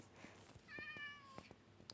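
A soft Minecraft cat meow, thin and drawn out, over a quiet electronic hum, with faint clicks around it.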